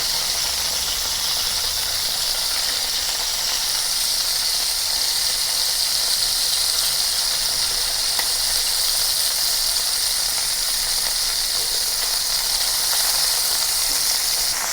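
Shrimp pan-frying in a single layer over medium heat for garlic shrimp, giving a constant, even sizzle and hiss that holds steady and close with no talking.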